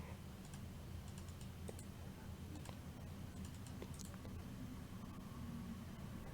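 Steady typing on a computer keyboard, with quick, even key clicks heard close up and continuing throughout over a low background hum.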